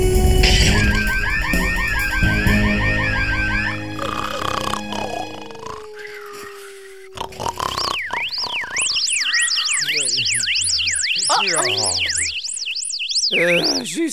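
A shrill electronic alarm warbles and wails in rising and falling sweeps, preceded by whistling tones and sliding sound effects.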